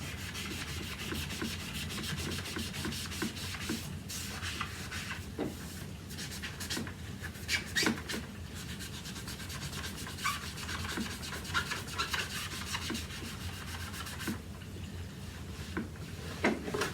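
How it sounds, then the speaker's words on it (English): Magic eraser rubbing paint off the plastic bumper of a Hoover Power Max vacuum gives a steady soft scrubbing swish, close and fairly quiet, with occasional light taps. "Got to love these magic erasers. But yep, there's just a little bit of paint there on the bumper"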